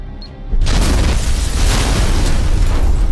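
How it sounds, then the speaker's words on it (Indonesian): A bomb goes off in a film scene about a Russian sniper's revenge on a mafia boss at a warehouse, a sudden loud boom followed by a sustained roaring blast and rumbling debris, with no talk. "disitulah Sanya telah bersiap dengan bom yang sudah ia siapkan"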